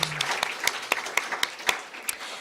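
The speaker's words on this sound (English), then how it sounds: "Just a round of applause for what these guys are doing out there" A small audience at a Joshua Tree National Park night sky award event claps briefly, with scattered distinct claps over a soft background murmur.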